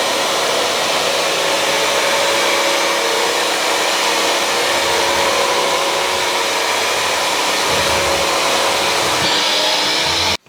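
A Bissell CrossWave HydroSteam wet-dry vac runs nonstop on a vinyl bathroom floor, its loud, steady motor whir and suction roar filling the whole stretch before cutting off abruptly at the end.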